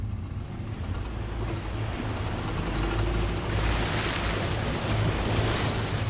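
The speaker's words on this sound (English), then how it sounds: "We get into the middle of this fast-flowing stream at 2'6" of water" A vehicle fords the middle of a fast-flowing river stream about 2'6" deep, with a steady loud rush and churn of water and some wind buffeting the microphone throughout, building slightly toward the end.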